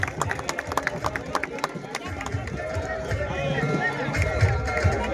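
A crowd at a marathon prize ceremony breaks into applause, dense clapping close and mid-distance that swells slightly, with an announcer's voice and chatter mixed over it.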